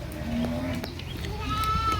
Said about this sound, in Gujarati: નાનું નાનું ઘેટું છે.